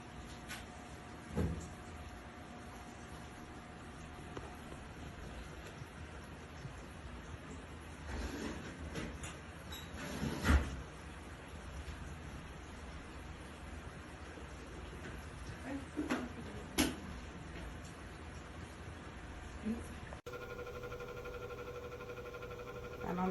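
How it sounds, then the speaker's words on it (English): A Vornado 630 mid-size whole-room air circulator fan running on speed 1, giving a steady faint broadband whoosh with occasional light knocks and clicks throughout. "I don't know why my Vornado sounds like this on speed 1."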